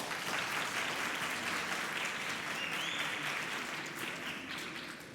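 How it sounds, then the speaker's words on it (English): An audience at a talk-show panel breaks into sustained, dense applause that holds steady for several seconds and fades slightly at the end, with no voices over it. "Please give her a round of applause."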